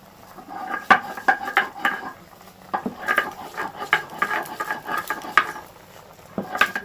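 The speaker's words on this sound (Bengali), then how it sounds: "এবার আমি রসুন আর আদাটাকে বেটে নিই" Garlic and ginger are ground into a paste with a run of irregular, close-up scraping and knocking strokes, some quick and clustered, with short pauses between bursts.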